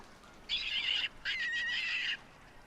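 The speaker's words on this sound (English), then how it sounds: "There is a goose over there." Two long, harsh goose honks sound in a hunting video game on the Hirschfelden map, clear and fairly close, separated by a short pause against quiet background ambience.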